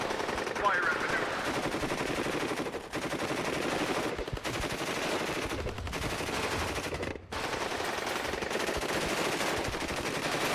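Sustained machine-gun and rifle fire in a WARNO video game battle, dense overlapping bursts rattling continuously with brief gaps, loud and close, with occasional voices over the shooting.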